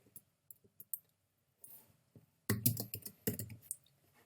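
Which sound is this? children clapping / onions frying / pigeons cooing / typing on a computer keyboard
typing on a computer keyboard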